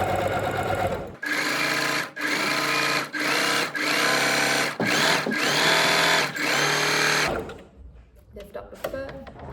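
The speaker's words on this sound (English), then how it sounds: "So now we're just going to do a basting stitch all the way down." A sewing machine runs a basting stitch down a fabric skirt panel, with a long, loud, steady stitching whir broken by several brief dips, followed by quieter fabric handling.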